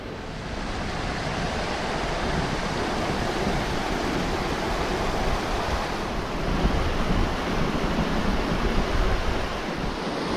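Waterfalls rushing beside a hiking route up Carnedd Llewelyn, a broad, steady roar with some wind buffeting, close and continuous with no talking.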